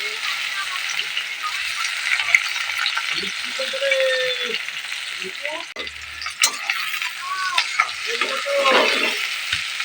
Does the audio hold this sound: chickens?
no